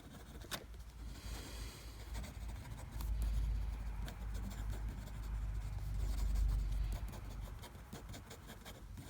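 Wingsung 3013 fountain pen nib scratching and gliding across paper in steady strokes, a soft close-up rubbing texture with faint low background rumble.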